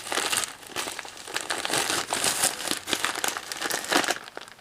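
A plastic bag of bulgur wheat crinkles steadily for several seconds, with a close, dense rustle of handling and shifting grains and no voices.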